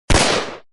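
A single carbine shot fired as an audiobook sound effect: one loud, sudden blast that decays smoothly over about half a second, heard alone.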